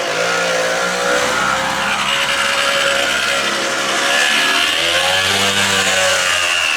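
A Rokon two-wheel-drive motorcycle engine roars and revs hard, climbing in pitch as it accelerates away, loud and continuous with a harsh, racing edge.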